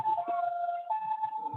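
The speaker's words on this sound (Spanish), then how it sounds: "ya viene la ambulancia" Ambulance siren sounding steadily at a distance, a sustained wailing tone that shifts pitch partway through, with faint background noise beneath it.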